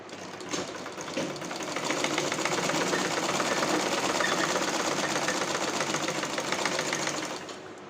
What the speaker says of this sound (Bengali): এইভাবে গলা সেলাই করে সুইটা ভিতরের দিকে গেঁথে নিয়ে আবার ঘুরিয়ে নিচ্ছি।